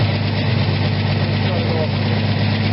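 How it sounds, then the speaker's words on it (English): A 1979 Ford F100 pickup engine running steady and close at a fast idle, a dense continuous rumble with no clear rise in pitch, loud throughout. "Let's rev it a little bit."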